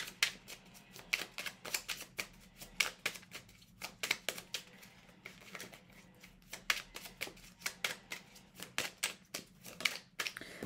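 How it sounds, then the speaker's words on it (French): A deck of Merlin oracle cards is shuffled by hand, giving a rapid, uneven run of crisp, close flicks and taps for about ten seconds, with no voice. "J'ai envie ici de vous tirer une petite carte de Merlin."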